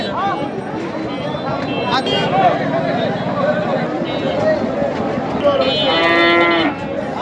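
Local bulls lowing at a busy cattle market, several long deep moos close by overlapping one another, with voices and crowd chatter running underneath.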